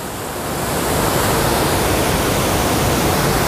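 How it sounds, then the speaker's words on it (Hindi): Saidhara waterfall at Jharigaon in Umerkote, Nabarangapur, Odisha, roaring steadily as a dense, continuous wash of falling water, loud and close, swelling in over the first second and then holding constant with no voices. "दोस्तों देखिए ये है साईधारा वाटरफॉल"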